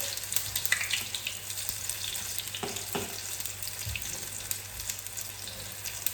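Salt fish fritters frying in a pan of hot oil, a continuous crackling sizzle with scattered pops and a few clinks of utensils, with no talking.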